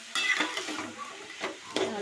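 Snake gourd and pumpkin pieces stir-fry in generous oil with salt in a pan, a spatula scraping and tossing them in a few distinct strokes over a soft, steady sizzle.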